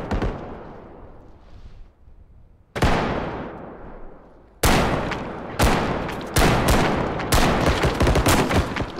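Gunfire in the video game Bodycam, loud and close: a single shot with a long reverberant tail, then another, then a run of sharp, closely spaced shots that quicken toward the end, each ringing out before the next.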